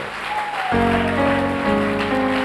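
A church congregation bursts into applause acclaiming the Lord, a steady, dense clapping from many hands that swells after a brief opening and carries on evenly throughout.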